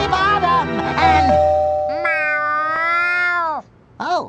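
A cat meows in the video game SpongeBob Lights, Camera, Pants, giving several loud, close, drawn-out tonal meows in succession, ending with a short one after a brief gap.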